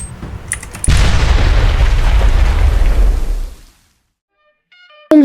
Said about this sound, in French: Il a un lance-roquette lui aussi.